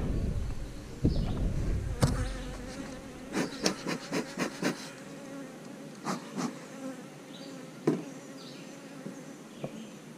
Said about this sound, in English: you can see there's quite a few bees up here.